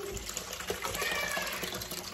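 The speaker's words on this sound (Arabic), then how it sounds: "غادي ندير معاها غير الماء، الماء بارد خليها" Cold water poured into barley grits while making a Moroccan barley dish: a short, close, steady splash and trickle of liquid with soft bubbling, lasting about two seconds with no talking.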